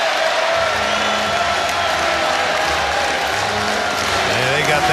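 A basketball arena crowd at a grand final game roars and applauds continuously as a player heads to the bench, loud and dense throughout, with a commentator talking over it.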